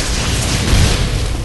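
Loud, continuous rumbling explosion blasts from the Ori and the Blind Forest video game, with a dense low-end boom swelling near the middle and staying steady throughout.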